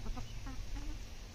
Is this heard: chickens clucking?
yes